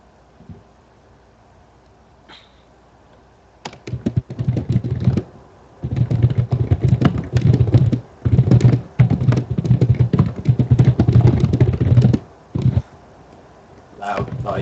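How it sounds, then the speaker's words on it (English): Loud typing on a computer keyboard comes through in dense clattering bursts of keystrokes separated by short pauses, close and prominent, with people talking at times around it. "Loud typing is loud."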